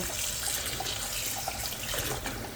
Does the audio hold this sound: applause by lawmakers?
no